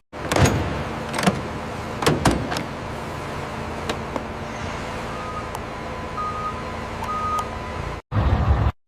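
A truck reverses at a transport loading area, its backup alarm giving short, evenly spaced beeps over a steady engine drone, with a few sharp mechanical clunks and thuds near the start.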